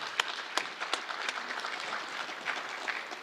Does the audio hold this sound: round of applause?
yes